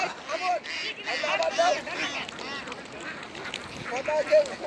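Many ducks on a duck farm quack in a busy, overlapping chorus close by, with someone talking over the steady, rhythmic calls.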